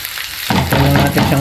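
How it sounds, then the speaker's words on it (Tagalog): Sauce in a pan jumps from a quieter simmer into loud, continuous sizzling and bubbling that persists for about a second with no talking. "Ito lang natin siyang kumulo."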